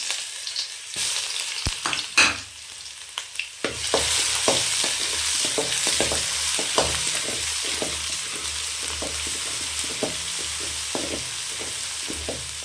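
Mustard seeds, curry leaves and ginger paste fry in hot oil for a mutton curry: a bright, loud sizzle that swells after a few seconds, broken by close stirring scrapes and light popping, with no talking.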